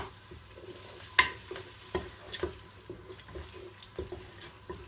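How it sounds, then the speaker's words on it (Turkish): Tomato paste and a beef stock cube sautéing in a pot for Turkish lentil soup: a soft, steady sizzle with repeated spoon taps and stirring clicks against the pot, close and fairly quiet, no talk. "Salçamızı da biraz şöyle kavuralım"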